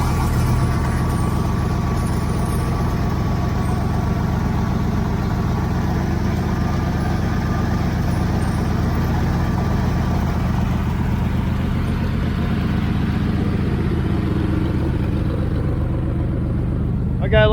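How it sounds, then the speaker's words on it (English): A 1980 Camaro Z28 V8 fitted with a knock-off four-barrel Holley carburetor idles steadily and fairly loud, a continuous low rumbling drone with no talk over it. "let me let it run for a minute and see if I get that idle down a little bit lower"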